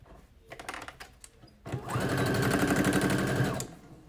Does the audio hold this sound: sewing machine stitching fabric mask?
yes